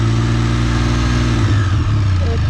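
A Can-Am Spyder F3 Limited three-wheeled motorcycle engine rumbles low and steady close by, its exhaust throbbing evenly with a slight rise in revs near the end.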